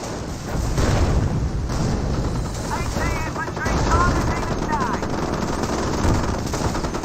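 Company of Heroes battle din with sustained machine-gun and rifle fire and a deep blast from a Teller mine explosion. The combat is loud and continuous, and several chirping sounds weave through it.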